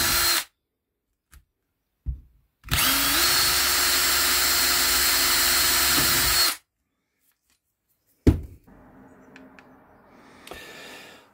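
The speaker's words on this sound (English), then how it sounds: "So we get those drilled." A power drill bores through two circuit boards taped together for a speaker crossover, with one steady, loud whine of about four seconds, brief motor blips before it and handling clatter after.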